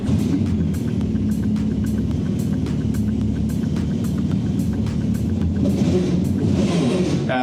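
A jet ski engine rebuilt to around 400 horsepower runs at a loud, steady idle rumble with a regular pulsing beat. The rumble grows slightly rougher near the end.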